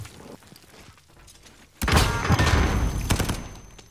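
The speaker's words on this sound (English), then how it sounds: "Alright, cooking a grenade. Throwing it." A grenade going off in a Call of Duty match, one loud booming blast that swells suddenly and rumbles on for a couple of seconds before fading, with smaller clicks and thuds beforehand.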